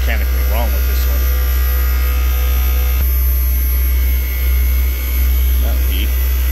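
A Daikin VRV inverter compressor hums loudly and steadily, with a strong low drone and faint whining tones as it ramps up and rattles with a suspected mechanical fault.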